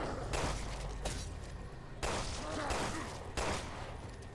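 Gunfire from Claire Redfield's weapon in Resident Evil Revelations 2, a few loud, dense bursts of shots that keep starting up again across the stretch with no break in between, over a steady game background.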